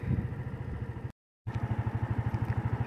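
Motorcycle riding along on the way to a farm, the engine pulsing in a fast steady rhythm up close, briefly cut out by a short gap of silence before resuming.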